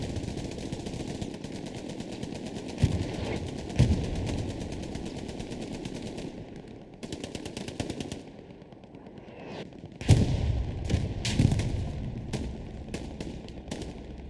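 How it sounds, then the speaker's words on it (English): Rapid machine-gun bursts and rifle shots crackle around a German Panther tank in a Hell Let Loose WWII esports match, loud, continuous volleys with sharper cracks near the four- and ten-second marks and no talk. "Panther taking shots from behind."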